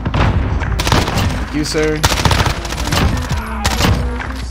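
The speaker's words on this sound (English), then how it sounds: "that was a bunch of good shots right there" Loud MP5 gunfire and explosions in a first-person shooter Search and Destroy match, rapid bursts and booming blasts overlapping, with a player talking over the action.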